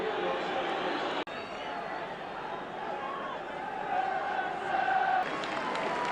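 A large football stadium crowd roars and murmurs at an Everton vs Bayern Munich Cup Winners' Cup match, a broad continuous swell under a commentator's voice.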